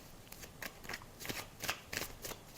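A deck of tarot cards riffled and shuffled close by, with a quick series of soft flutters and snaps over a couple of seconds and no voices.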